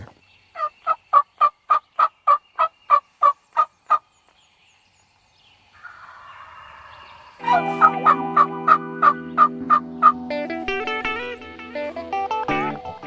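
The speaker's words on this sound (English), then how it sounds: "these turkeys were gobbling their heads off" Wild turkeys gobble during a hunt from a blind, a rapid series of about a dozen sharp rhythmic calls, then a softer noise, then a second burst of gobbling overlapped by layered calls.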